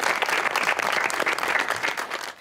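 Dense studio audience applause on a Pakistani television game show, steady and loud throughout with no talk over it.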